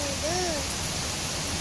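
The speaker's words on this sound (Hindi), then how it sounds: "बारिश बहुत तेज हो रहा है।" Heavy rain pours steadily in a village with a light wind, a dense, continuous hiss of falling water filling the whole clip, loud and close, with a brief faint tonal sound near the start.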